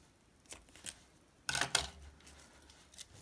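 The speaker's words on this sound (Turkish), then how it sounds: "Fazlalığı kesiyorum." Scissors snip through excess crochet yarn on a handmade crochet bag, a few soft, close cuts with two sharper snips in the middle against a quiet background.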